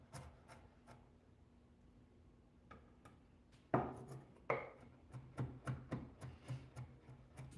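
Garlic cloves chopped with a knife on a board, a quiet run of sharp irregular knocks that speed into a quicker rhythm, close and alone.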